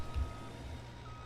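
A truck in a farming game backs up, its reversing alarm sounding faintly as a steady tone over low engine rumble, brief and without talk.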